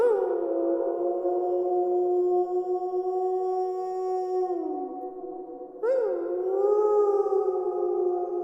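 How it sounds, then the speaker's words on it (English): Wolves or werewolves howling, a long sustained tonal wail with layered voices that bend downward, pause briefly, then rise into a fresh, loud chorus of howls. "Once again, I heard howling."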